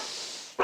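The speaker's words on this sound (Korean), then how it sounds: "이 친구가 긴장해서 짖는 거기는 한데" A nervous dog gives one sharp bark at the very end, loud and close, after a stretch of quiet room hiss.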